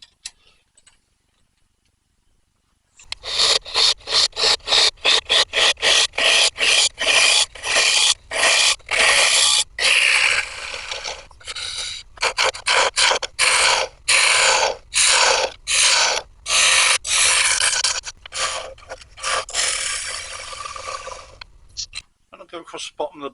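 A wood lathe chisel hollows a wooden bowl turned from a branch, a loud close scraping cut pulsing in fast regular bursts for about twenty seconds after a quiet start, then stopping abruptly.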